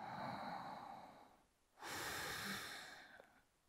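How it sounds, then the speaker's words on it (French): Two slow, deep breaths during yoga pigeon pose, a long airy inhale followed by a fuller exhale, close and quiet with no talk over them. "On prend 3 profondes respirations ici."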